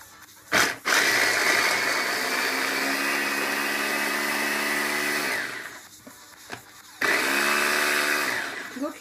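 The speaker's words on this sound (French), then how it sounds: "Donc là je vais hacher mon oignon." A kitchen food processor chops an onion in two loud bursts of steady whirring motor, the first several seconds long and the second shorter, with clicks and quiet gaps around them.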